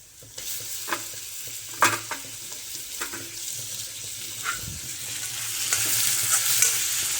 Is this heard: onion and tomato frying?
yes